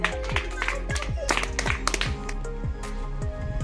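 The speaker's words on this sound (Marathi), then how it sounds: "टाळ्या" Children at a school game clap in a quick, uneven rhythm of sharp hand claps, close by, with background voices and music-like tones underneath.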